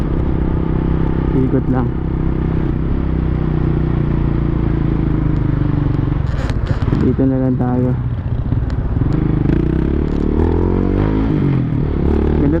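A big bike motorcycle engine runs steadily up close, a loud continuous drone with some clatter and rising revs near the end, while someone talks over it.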